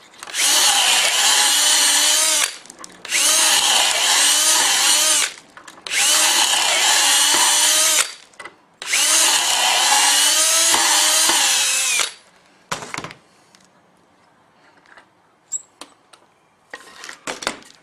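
Four long bursts of a power drill whining at high speed into a wooden kitchen table leg, each lasting a couple of seconds with brief pauses, followed by light clicks and handling noises.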